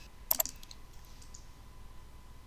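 A quick pair of mouse clicks lands on a website's Add a Market button, crisp and close against a quiet room.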